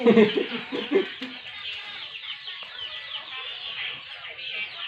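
Chickens cluck close by, a burst of loud clucks at first, then softer scattered clucking and rustling of a flock.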